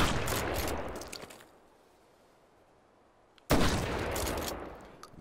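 Gunfire in a VR shooting game, a slug-shell firearm: a rapid, loud burst of shots, then a quiet gap, then another sharp burst of firing.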